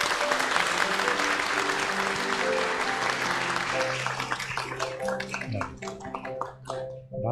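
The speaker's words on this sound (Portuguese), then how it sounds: "eu gostaria, pessoal, de pedir também uma salva de palmas para" A church community crowd bursts into dense, loud applause that holds steady for several seconds, then breaks into scattered claps as a few voices start talking over it.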